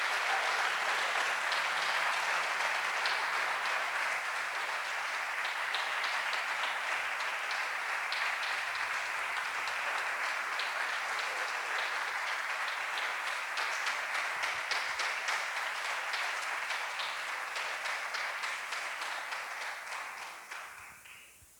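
Congregation at a church service applauding together, a steady dense wash of many hands clapping that holds for about twenty seconds before tapering off at the end.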